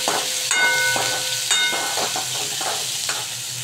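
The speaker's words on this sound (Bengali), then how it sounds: "আমি এতে মেশাচ্ছি পেঁয়াজ কুচি, রসুন কুচি দিয়ে এটাকে ভালো করে নাড়াচাড়া করে নেব।" Chopped onion and garlic sizzle in hot oil with cumin and dried chilli, a steady close frying hiss broken by the scrape and clatter of a spoon stirring the pan.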